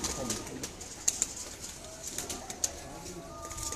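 Soft, faint cooing of breeder pigeons, including Teddy, Golden and Sialkoti mixes, kept in a loft, with a few low coos rising over a quiet background.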